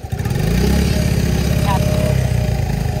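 A motorcycle engine idles and revs steadily up close while a beginner learns to ride, a loud continuous low mechanical drone with people talking over it.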